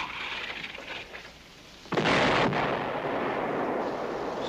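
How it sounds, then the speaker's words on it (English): Artillery searching fire booms in the distance. A muffled rumble is followed by a heavy, sustained blast and a long rolling echo, with no voices. "Sounds like searching fire."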